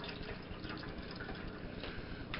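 Teriyaki sauce pouring into a cooking pot, a steady liquid trickle and splash running throughout at moderate volume with no talking.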